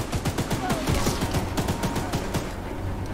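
Rapid bursts of gunfire in the video game Choo Choo Charles, loud clustered shots firing in quick irregular volleys, easing off toward the end.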